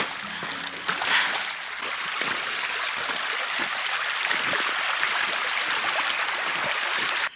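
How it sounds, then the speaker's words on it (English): Hikers wade across a river on foot on Vancouver Island, with rushing, splashing water close by as a steady loud hiss and occasional sloshing steps. "first river ford"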